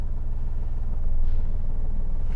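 A manual car's engine note shifting as the clutch reaches its biting point, the rear squatting and nose lifting; a steady low rumble with a slight rise in level midway, close and without talk.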